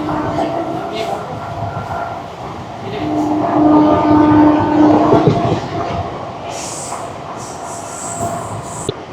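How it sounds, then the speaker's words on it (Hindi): A local train on the Howrah to Amta line in India slows into a small rural station, heard from on board: a loud steady rumble, squealing wheels and a brief ringing tone, with faint voices inside the carriage. "नए स्टेशन में एंट्री हो रही है"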